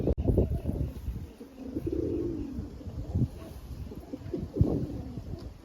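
A newly released pigeon coos nearby, its low rolling calls repeating in bursts among rustling and shuffling movement close to the ground.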